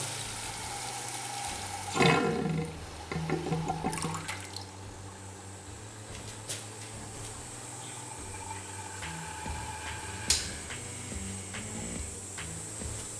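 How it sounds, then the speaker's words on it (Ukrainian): Water being drained from a home heating system's radiators and pushed out by a running pump, a steady rushing gush with sudden splashy surges and a few sharp clanks. "Так само включаємо насос і він нам ще проганяє з батареї воду."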